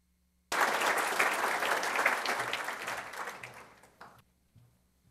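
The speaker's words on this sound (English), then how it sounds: "I would like to give both the students and the faculty a round of applause" An awards-ceremony audience applauds students and faculty, with loud, sustained clapping starting abruptly, tapering over several seconds, then stopping with a few stray claps.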